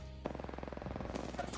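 Full-auto Flatline rifle fire in Apex Legends, a fast steady rattle of shots lasting over a second, heard under game audio.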